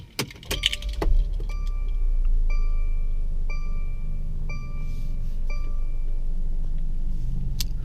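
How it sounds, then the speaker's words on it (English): A few clicks and clunks, then a Mercedes engine catches and settles into a low idle while a dashboard chime repeats at a steady pace. "by starting the car"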